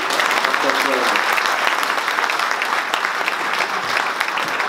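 Loud, dense applause from a business new-year gathering audience fills the whole stretch, steady and close, with a voice briefly audible early on.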